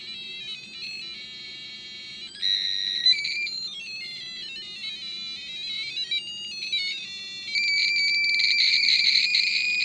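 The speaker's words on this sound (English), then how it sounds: "So that is my theremin." A homemade theremin gives a high electronic buzzing whine whose pitch wavers and jumps as a hand moves near it, growing louder in later bursts, with no one speaking.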